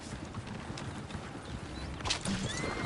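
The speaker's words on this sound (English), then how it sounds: "Oh, shit, the horses!" Horse hooves clip-clop steadily in Red Dead Redemption 2 with a whinny breaking through near the end, over a continuous dense background of movement and rumble.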